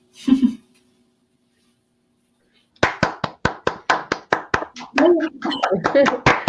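A small group of people clap at an online show: a brief voice at the start, a pause, then a run of sharp, distinct hand claps with uneven rhythm that grows denser, close and clear.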